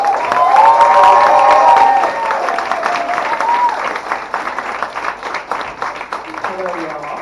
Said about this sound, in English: Please give a huge round of applause for Joey